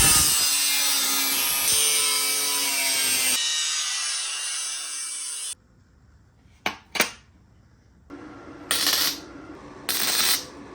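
Metal stock for the new elbow joints of a homemade Iron Man exosuit is sawn by hand with rapid, rasping back-and-forth strokes for about five seconds, followed by quiet and a few sharp clanks.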